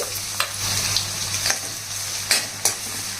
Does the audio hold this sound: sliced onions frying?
yes